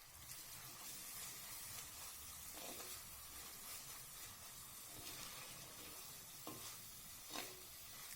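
Carrots, beans and onion sautéing in oil for a wedding-style rava kitchadi, a steady close sizzle with occasional scraping stirs of a spoon against the pan.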